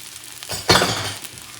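An egg for chicken fried rice hits a hot pan, with a brief clink followed by a sharp burst of sizzling that fades quickly to a quiet background.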